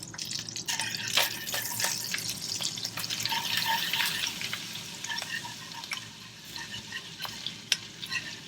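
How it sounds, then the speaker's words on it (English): Flour is whisked into the pan drippings for Swedish meatball gravy, rapid clicking and tapping of a whisk over a bubbling, crackling sizzle, close and busy, with no one talking. "Whisk in flour until lightly brown, about a minute"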